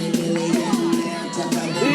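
A wrestling arena crowd roars steadily through a Prime Time Wrestling entrance, with loud music and an announcer's voice layered over the cheering.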